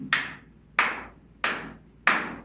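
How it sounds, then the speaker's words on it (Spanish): Four sharp, evenly spaced hand claps in a primary-school music rhythm exercise, each crisp and close with a short decay, alone against a quiet background. "voy a aplaudir"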